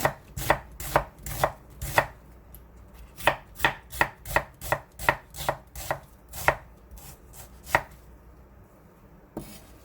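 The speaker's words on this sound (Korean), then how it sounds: "양파 반 개를 썰어줍니다." A knife chops half an onion on a cutting board in a run of sharp, evenly spaced close thuds, about a dozen strokes that thin out and stop near the end, with no talking.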